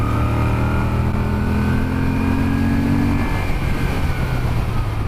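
A 2018 Moto Guzzi V7 Special Edition motorcycle engine held at full throttle: a loud, steady, close droning roar whose pitch eases slightly partway through.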